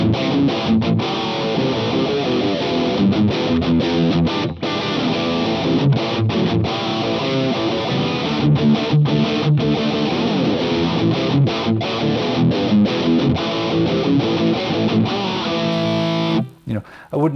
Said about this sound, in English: It sounds like a tube amp, right?